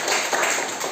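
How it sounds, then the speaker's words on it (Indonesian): Classroom applause for a student group, a steady wash of many hands clapping together for about a second, moderately loud and without pause. "Tepuk tangan buat kelompok 1."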